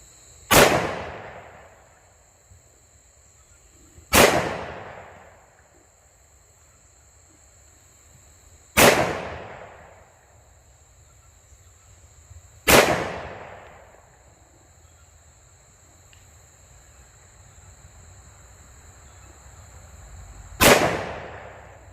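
Five sharp pistol shots from a Smith & Wesson M&P in .357 SIG firing Gold Dot ammunition, spaced several seconds apart at an outdoor range, each a loud crack with a short decaying echo, and quiet between shots.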